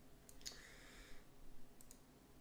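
A computer mouse clicks while editing in Photoshop: a few quiet, close clicks, including a quick double click, over faint background hum.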